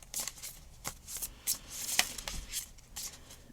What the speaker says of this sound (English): So today, shuffle the deck.